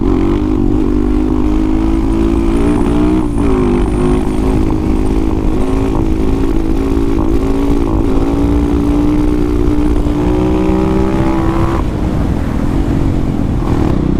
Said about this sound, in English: I got somebody requested me to tag a wheelie